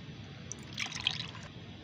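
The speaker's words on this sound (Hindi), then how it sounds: "तो अब मैं इसको छान लूँगी" Aloe vera fertilizer liquid, sticky from dissolved gel, trickles through a strainer with a faint, soft dribble and splash that swells briefly in the middle.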